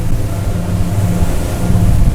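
A Jeanneau Cap Camarat 9.0 twin-engine motor boat leans into a hard turn at reduced speed, with a loud, steady engine drone mixed with rushing water and wind buffeting.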